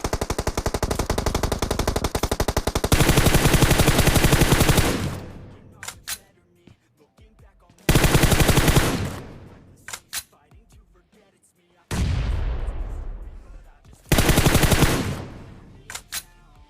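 Loud bursts of rapid automatic gunfire in PUBG, several long sprays separated by pauses, with sharp single shots and echoing tails between them.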